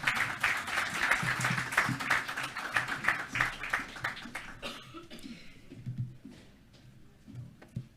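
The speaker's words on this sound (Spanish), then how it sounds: "Invitamos a pasar adelante a nuestro invitado internacional, doctor Alejandro Sada, con un fuerte aplauso" Audience applause welcoming an international guest speaker at a Catholic public-life congress, a dense patter of many hands for about five seconds that thins into scattered claps and murmurs.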